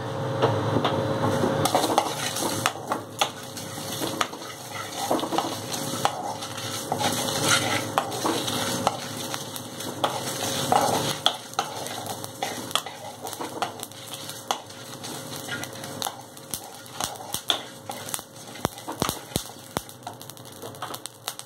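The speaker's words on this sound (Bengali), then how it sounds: "ভালো করে আমি শুকনো খোলাটা ভেজে নিচ্ছি।" Dry spices roasting in a hot pan for a Hyderabadi chicken curry, with steady stirring scrapes, faint crackle and frequent small metallic clicks of the spoon against the pan throughout.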